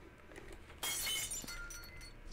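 Glass shattering in the Viscera Cleanup Detail video game, a single loud bright crash that rings out briefly before settling into low game ambience.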